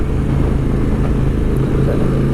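KTM 890 SMT motorcycle fitted with a Vandemon exhaust, its engine giving a loud, steady low rumble that runs throughout, close up with no voices.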